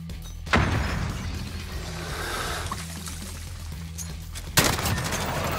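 Gunfire from a weapon in a Modern Warfare gunfight match, dense rapid bursts running steadily through the stretch with a sharper loud shot near the start and another near the end, close and forceful.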